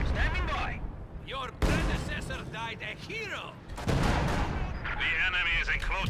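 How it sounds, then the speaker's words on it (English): An SU-76 artillery barrage in a real-time strategy video game, with repeated booming impacts and crackling gunfire under steady, fast commentary from a man. "SU-76 barrage coming in, dealing quite a lot of damage to those grenadiers"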